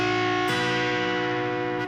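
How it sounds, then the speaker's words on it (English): A sustained, distorted electric guitar note from a guitar solo bends up a whole step on the third string, then shifts to a new pitch with a pull-off, ringing loud and steady. "I'm bending that ring finger up a whole step from 7 of the 3rd string"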